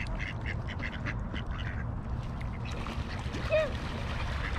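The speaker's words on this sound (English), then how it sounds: "Can I touch the ducks?" Ducks quack at Steel Lake in Federal Way, Washington, a short call rising briefly over steady low outdoor rumble and background noise at a moderate distance.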